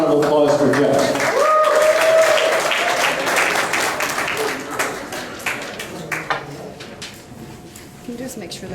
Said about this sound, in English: So a nice big round of applause for Jeff.